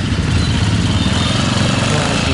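A Cub motorcycle ridden on a rough trail on New Year's Day, its engine a steady, close, loud low rumble that holds an even throttle all the way through with no revving.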